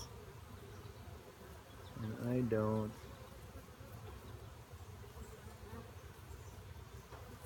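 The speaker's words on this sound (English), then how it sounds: "I don't know if you guys can hear the activity of these bees" Steady insect buzzing of honey bees fills the background, swelling briefly as a bee passes close by, with a short spoken phrase in the middle.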